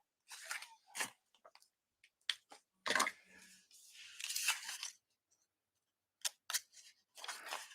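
Scissors snip through the end of a piece of paper while an envelope ephemera craft is being made. Several crisp, close cuts and crunches come in short bursts with quiet gaps between them, and no one speaks.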